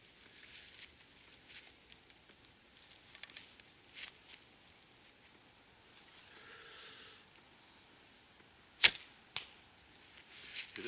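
Longbow arrows loosed at dusk on a quiet outdoor range, faint soft whooshes and thin flights spread across the stretch, then a sharp loud impact crack near the end followed by a couple of smaller knocks.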